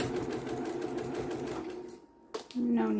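A sewing machine stitches back and forth over scrap fabric for a headband. The close, rapid mechanical whirring is briefly interrupted, then resumes with a distinct tone at the end.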